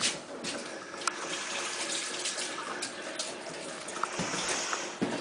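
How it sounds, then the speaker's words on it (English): Hands rinsed under a running sink faucet in a kitchen, a steady soft gush of water with occasional small splashes and knocks, fairly faint and without talk. "Let me go rinse my hands off real quick."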